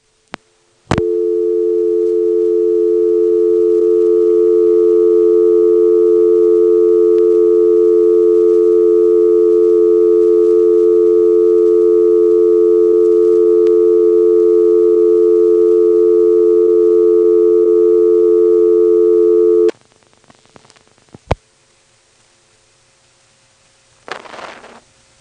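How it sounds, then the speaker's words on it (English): A steady, loud telephone dial tone from a 1977 step-by-step exchange drones on for about twenty seconds, then times out and cuts off abruptly, followed by a few faint clicks and a short burst of noise. "Here's the sound of dial tone timing out."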